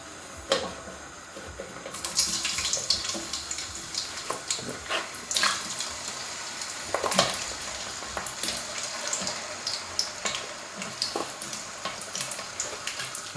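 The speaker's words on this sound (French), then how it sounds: "Frites dans votre friteuse, bien évidemment vous faites très attention." French fries sizzle in a deep fryer of hot oil, a continuous bubbling hiss with sharp crackles and spits scattered throughout, close and fairly quiet.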